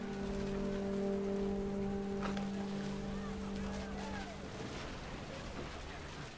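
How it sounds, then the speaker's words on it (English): Heavy rain pours steadily in the video game What Remains of Edith Finch, a dense, continuous hiss of drops on surfaces with sustained musical tones under it for the whole stretch. "The rain came down in buckets then"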